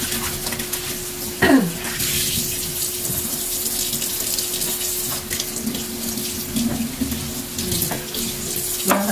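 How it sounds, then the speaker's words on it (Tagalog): Kitchen tap running into a sink while dishes are washed during cooking, a loud steady gush with clinks of dishes and a faint hum underneath. "Habang nagluluto, naghuhugas para malinis lang yung"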